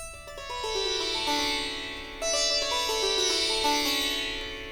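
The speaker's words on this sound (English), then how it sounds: "if I just play all of the sympathetic strings in a row, it sounds like this." Sympathetic strings of a raga instrument swept one after another in a row, a shimmering cascade of bright resonant notes that ring and overlap, stepping downward in pitch, with no talk.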